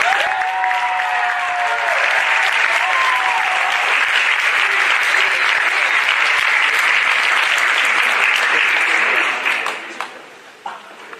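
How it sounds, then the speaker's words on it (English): Sustained applause from a large crowd at a high school signing day, dense steady clapping that fills the space, with a few brief voices early on, fading out near the end. "Let's give all of our signees one more big round of applause."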